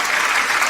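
A brief burst of steady audience clapping, dense and even, with no voices over it.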